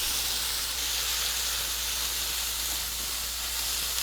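Pulled pork with smoked salsa charring in a hot pan, giving a continuous, even, close sizzle and hiss with no pauses or talking.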